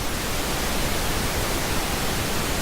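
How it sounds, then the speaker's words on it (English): Steady pink noise, a broadband hiss used to mask human voices, holds at an even, moderate level throughout with no breaks or speech. "Pink noise is what you just described, which is it's frequencies that are specifically selected in order to drown out the human voice."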